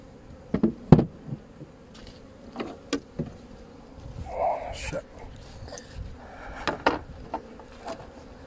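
Honey bees buzzing around beehives in a New Zealand apiary, a steady low hum with individual bees passing close, mixed with scattered knocks and handling sounds from the hives, with speech heard.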